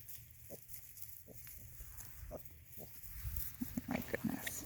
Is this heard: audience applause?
no